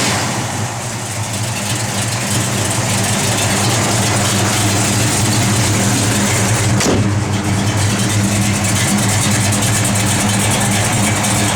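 A loud, rumbling 1969 Chevrolet Chevelle SS engine with an MSD Pro Billet distributor idles close by, with a deep uneven throb that holds steady throughout and one brief sharp blip midway.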